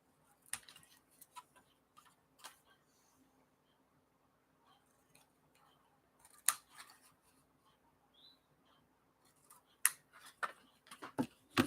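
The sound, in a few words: scissors cutting paper along the score line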